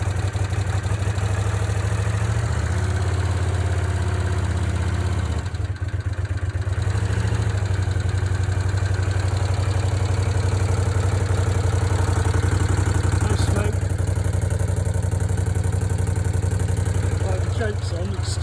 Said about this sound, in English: The engine sounds sweet to me.